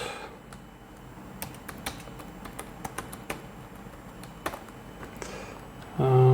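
Rapid, irregular keystrokes on a computer keyboard as a password is entered, close and fairly quiet with short pauses between bursts, ending in a louder thump.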